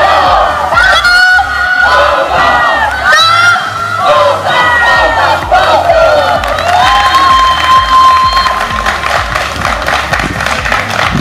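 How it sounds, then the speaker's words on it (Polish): Loud crowd of football fans at a 2018 regional championship trophy ceremony cheers, shouts and chants continuously, with horn-like honks cutting through the roar close by. "Wielkie brawa dla kibiców!"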